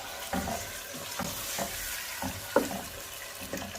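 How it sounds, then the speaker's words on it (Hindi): Chicken for a badami chicken qorma fries in a pan, with soft sizzling under repeated stirring scrapes and a brief clink of a utensil near the middle, steady and moderately close. "और चिकन को हमने अच्छे से फ्राई करना है।"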